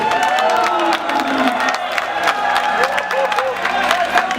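Audience at a Ukrainian auto show event applauds and cheers for a student team, a loud, dense crowd roar with clapping and whoops filling the whole stretch, voices mixed in.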